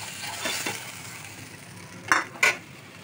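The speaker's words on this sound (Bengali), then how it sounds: "মাছগুলো ভেজে নিলাম" Bhola fish frying in a pan of hot oil, with a soft steady sizzle broken by a few louder clinks of a utensil against the pan.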